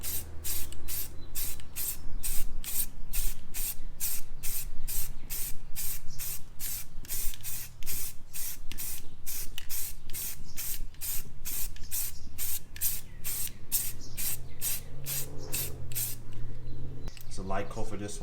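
Primer sprayed onto car wheels in a long series of short, evenly spaced aerosol bursts, crisp and close, repeating steadily for most of the stretch before stopping near the end.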